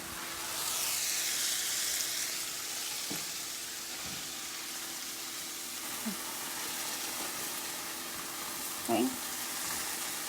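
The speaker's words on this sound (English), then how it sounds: "I'm cooking basically on high heat right now." Green peppers sizzling and frying in a pan over high heat, a steady hiss of oil with a few faint scrapes and stirring knocks now and then.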